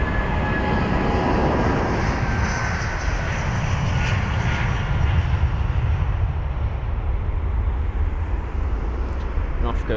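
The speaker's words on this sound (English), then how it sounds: "Off goes that Eurowings jet." A Eurowings jet takes off at London Heathrow, its engines roaring loud and continuous before easing gradually, with someone talking over the noise.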